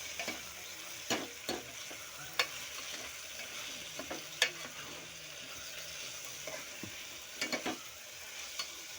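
Spices and black pepper powder frying in a pan for cabbage pulao, a soft continuous sizzle broken by scattered scraping stirs and a few sharp clicks of a spoon, quiet and close with no voices.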